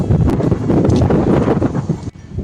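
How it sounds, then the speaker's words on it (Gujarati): Strong wind sweeping across an open farm field, buffeting the microphone in loud gusty rumbles with rustling bursts, briefly dropping near the end before surging again. "એ ફૂલ પવન નીકળ્યો છે"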